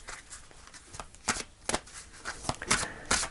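Deck of Message from Heaven oracle cards riffled and shuffled close up, a series of soft flapping snaps and slides, then a card pulled from the deck.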